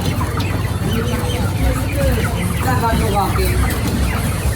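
Chickens cluck repeatedly close by, their calls mixing with people talking and a busy background hum.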